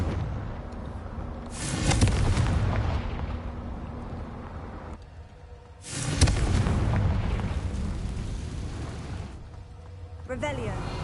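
Hogwarts Legacy's Confringo fire spell explodes in two big booming blasts about four seconds apart, each rumbling and fading, with game voices and effects around them.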